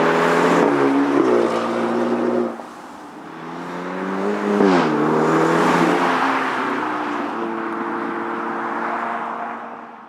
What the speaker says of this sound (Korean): 배기 사운드가 좀 더 강화되는데